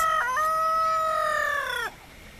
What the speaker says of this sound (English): Yay, roosters.